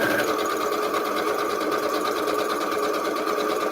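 A sewing machine runs continuously at a fast, even stitching rate, its needle chattering loud and near for the whole stretch without pause.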